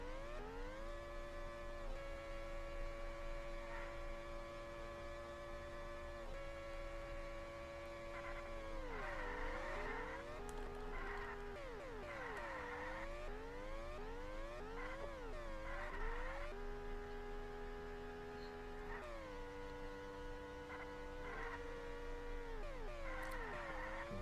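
Race cars from a sim racing video game at the Belgian circuit, with turbocharged engines droning steadily and rising and falling in pitch through gear changes, several cars blending together at a constant loud level.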